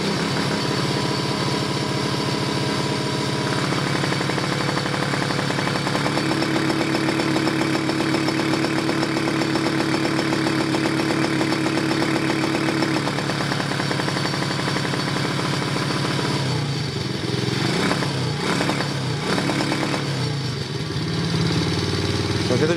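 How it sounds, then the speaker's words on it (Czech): A warmed-up ATV 110 engine runs rough under throttle, a loud continuous buzzing drone with a steady higher tone partway through and uneven sputtering toward the end. "A když přidám plyn, tak já vám ukážu"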